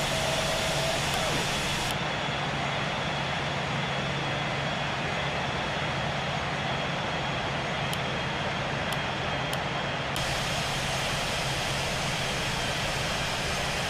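A Dash 8 Q400 turboprop in Real Flight Simulator gives a constant loud engine roar with a steady droning hum, unbroken for the whole stretch, with faint clicks partway through.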